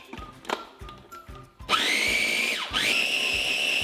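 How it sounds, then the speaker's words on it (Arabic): A kitchen blender whirs loudly as it blends spinach filling with olive oil, salt, black pepper and rosemary leaves, starting after a few soft clicks and running steadily with a brief dip in pitch partway through. "وبشغل الخلاط"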